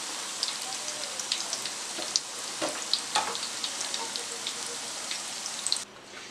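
Semolina and chana dal pakoras frying in hot oil, a continuous close bubbling sizzle dotted with small sharp crackles and pops, with a brief dip near the end.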